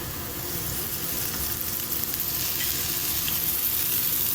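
Onions frying in oil, giving a continuous, fairly loud, even sizzle with no break or talk.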